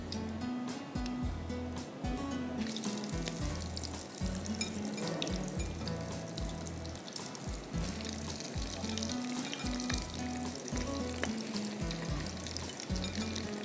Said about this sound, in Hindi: पहले फ्राइज़ फ्राई कर लीजिए